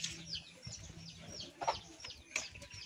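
Faint chicken clucks come in a few short calls at a rural Filipino home garden, quiet and scattered over a low outdoor background.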